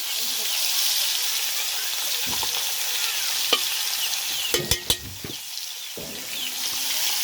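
Chicken pieces fry in a pan over a clay stove with a steady broad sizzle throughout, broken by a few sharp clanks and scrapes of stirring toward the middle.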